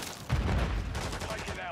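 Dense crackling gunfire from a Modern Warfare 3 multiplayer match, a brief burst of overlapping shots under muffled game voices.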